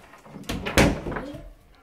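A cupboard door in a holiday cabin opens with a brief wooden knock and clatter, followed by a faint creak as it swings, close and moderately loud in a quiet room.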